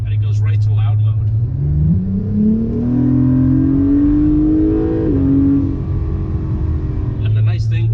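Acura NSX with a titanium dual-mode active-valve exhaust in loud mode, revving up from idle in a long climbing pull, then easing back down, close and loud, with brief voices at the start and end.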